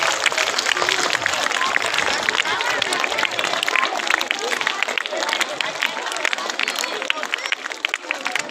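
Loud, sustained applause from a crowd honoring school students at an award ceremony, dense steady clapping filling the whole stretch without pause.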